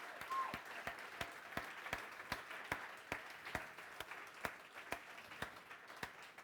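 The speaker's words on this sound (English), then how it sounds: "I want one more round of applause for Mark putting this all together" An audience claps in a steady round of applause, with evenly spaced loud claps standing out over a softer wash of many hands, heard from within the room.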